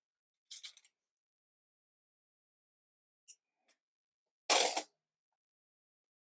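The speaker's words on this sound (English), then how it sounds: "And then once more to cut the yarn." Scissors snip through yarn beside a knitting machine: a quick cluster of cuts, two faint clicks, then one louder, longer snip, each isolated against silence.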